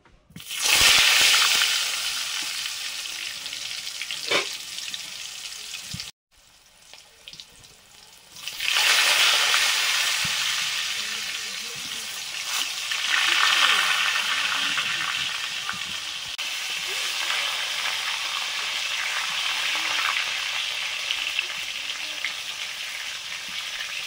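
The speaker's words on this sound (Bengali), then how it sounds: "আলুগুলো ভাজা হয়ে গেল, তুলে নিলাম।" Potato pieces fry in oil in a kadai with salt and a little turmeric, giving a loud, close, continuous hissing sizzle that drops out briefly partway through and then resumes, with no talking.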